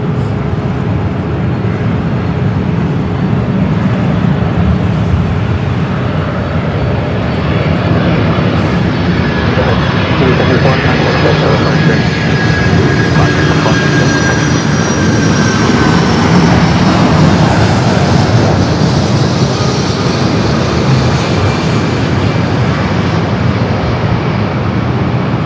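Delta Boeing 767-400ER arriving at LAX from JFK, a loud continuous jet engine roar with a slowly sliding whine that swells toward the middle of the clip and holds steady.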